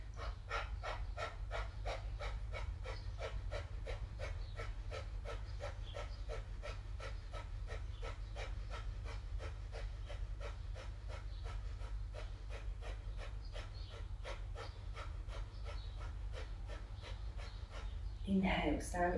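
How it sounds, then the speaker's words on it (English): Kapalabhati yoga breathing, a steady, rapid train of sharp forceful nasal exhales, evenly spaced about twice a second for nearly twenty seconds over a low hum, with a brief louder sound at the end. "Okay, Kapalabhati breathing."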